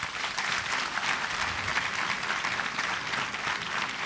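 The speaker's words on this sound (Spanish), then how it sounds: "Démosle por favor un fuerte aplauso" Conference audience giving a police official a strong round of applause, a continuous even wash of many hands clapping at moderate volume with no voices.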